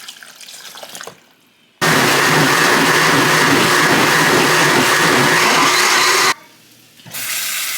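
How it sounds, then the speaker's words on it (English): Water pours loudly and steadily into a cooking pot for several seconds, a dense rushing splash that starts abruptly and cuts off, with quieter kitchen noise before and after. "And I'm also gonna add a little bit of water."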